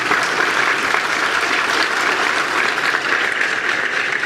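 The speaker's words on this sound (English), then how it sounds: "let's clap and support their arrival here in the Republic of Moldova" An audience at a conference in the Republic of Moldova applauds to welcome visiting U.S. senators including John McCain, John Barrasso, John Hoeven and Ron Johnson: steady, dense clapping from many hands, sustained without a break.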